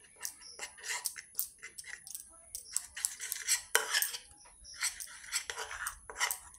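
A spoon clinks and scrapes against a small bowl while a lemon juice and water face pack is mixed, in irregular close taps and stirring strokes with short pauses between, quiet and alone.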